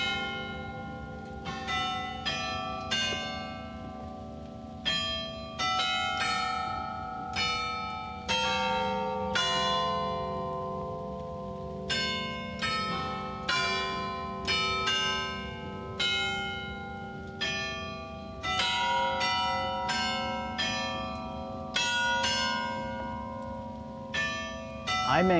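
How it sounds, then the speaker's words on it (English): Real bells in a chimes building ring in a steady, overlapping sequence, each strike ringing out with long resonant tones that sustain beneath the next, loud and fairly close. "Those are real bells."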